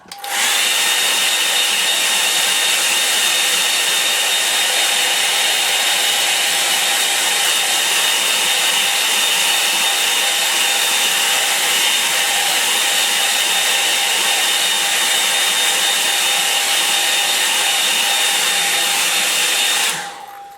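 A hair dryer blows on a wet watercolour painting, a loud steady close whine and rushing air that starts abruptly and runs unbroken for about twenty seconds before cutting off.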